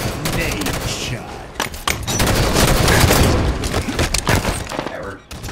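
A free-for-all shooter match on the Empire map, with a grenade blast and rapid gunfire, thumping booms and crackling shots in heavy overlapping bursts, loud and close, with voices mixed in.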